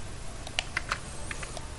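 Sparse keystrokes on a loud Motospeed mechanical computer keyboard, a handful of sharp clicks spaced irregularly across a couple of seconds, close up over a faint steady room hum.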